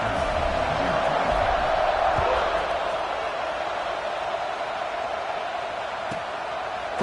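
A football stadium crowd roars steadily before a kickoff, a broad, continuous wash of cheering that holds at high level throughout with no clear individual voices standing out.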